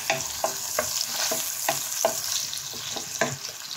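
Bottle gourd peel and potato curry being stirred in a pan, a spoon scraping in steady repeated strokes over a constant close sizzle of frying.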